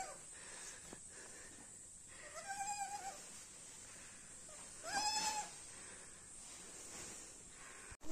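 Goats and young kids on a farm let out two separate short, wavering bleats a few seconds apart, fairly faint against a steady hiss of background noise.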